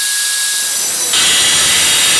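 A power tool cuts through a steel trailer fender that is being reshaped into a motorcycle fender. A steady, loud, hissing grind starts and stays harsh through most of the cut, with no talking.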